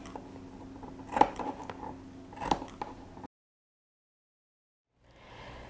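Scissors snip small slits into the fabric along the curved sewn edge of an apron, a few quiet close cuts with two sharper clicks, followed by silence and faint rustling.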